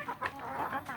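Free-range village chickens clucking nearby, a few short clucks and soft calls from the flock in quick succession, fairly quiet with no talk.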